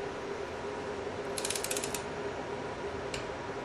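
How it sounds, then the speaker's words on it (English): A brand new click-stop torque wrench clicks faintly during transmission assembly, a brief cluster of light clicks followed by one more single click over a steady background hum. "This is one of those click stop"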